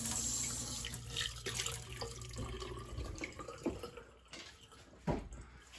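Hot water runs from a kitchen tap while a newly plumbed KitchenAid dishwasher is being tested, a steady splashing flow into the sink with a few louder knocks and drips near the end.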